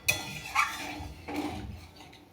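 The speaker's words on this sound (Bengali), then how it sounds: "জল দেওয়ার পর ভালো করে নেড়ে নিতে হবে যাতে তলা না লেগে থাকে।" A pot of duck egg curry with potato and pointed gourd stirred after water is added: a few metallic clinks and scrapes of a spoon against the pot, fairly faint and spaced apart.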